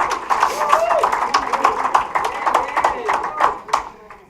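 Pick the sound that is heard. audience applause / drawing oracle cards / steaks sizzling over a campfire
audience applause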